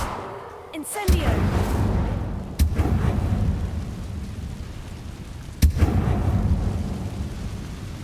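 An Incendio fire spell cast in Hogwarts Legacy, a sharp whoosh and crack followed by a heavy roaring rumble, with later sharp bursts over the sustained roar.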